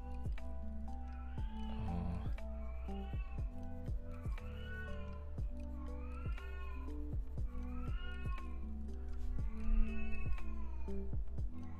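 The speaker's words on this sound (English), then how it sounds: "Don't know if you can hear the cat" A cat meows loudly and repeatedly indoors, a long series of drawn-out, wailing calls in a steady rhythm, with no talking over it.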